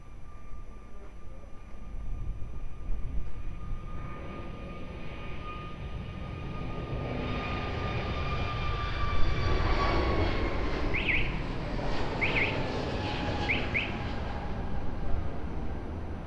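An airliner takes off from runway 02 at Lisbon Airport, its engine roar swelling gradually from a distant rumble into a loud, sustained jet whine with a few faint chirps scattered over it.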